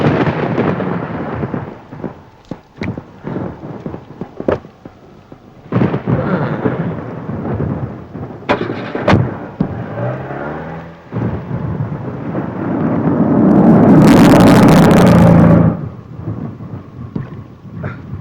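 A heavy thunderstorm drums with steady rain, broken by sharp cracks and then a long, loud roll of thunder that swells and fades. The rain hiss continues underneath and no voices are heard.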